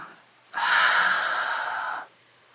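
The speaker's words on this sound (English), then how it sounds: "Take a deep breath in. Remember, filling up, expanding. And exhale, let it go." One long, deep breath is drawn in close to the microphone. It is a steady, airy rush lasting about one and a half seconds and falls silent afterward.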